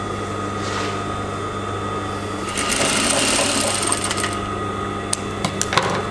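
A sewing machine stitches a skirt seam in a steady, continuous whirring run that grows busier and louder midway, with a few small clicks near the end.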